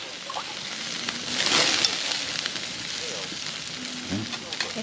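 Beef cooking over an open fire sizzles with a steady crackling hiss that swells briefly, close by, with no talking.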